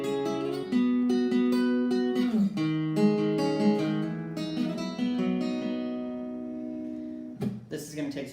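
Acoustic guitar strums a run of chords from a song in a roadside lesson, sustained ringing chords changing every second or so, close and clear, ending with a brief scrape.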